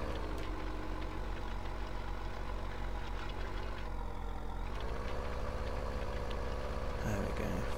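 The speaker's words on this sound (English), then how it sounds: "It's a tractor that I use, but you don't see much of it." Tractor engine in a farming video game, running with a slightly uneven, dodgy rev, a steady mid-pitched idle with a brief shift in tone partway through, no talk.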